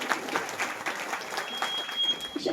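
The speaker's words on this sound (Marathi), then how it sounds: "सर्व गुणवान भजने करता जोरदार टाळ्या" Loud applause from a crowd honoring bhajan singers at a devotional abhang gathering, a dense, steady clatter of many hands filling the space for a few seconds.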